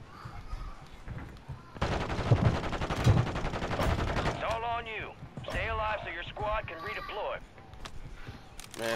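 Gunfire from a Call of Duty match crackles in rapid bursts through the middle of the scene, set against game noise while someone talks over it.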